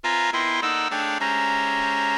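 A dissonant chord block plays back in Sibelius notation software and steps downward through several sustained chords, with a thin melody floating above. The synthetic tone is bright and steady and sounds alone.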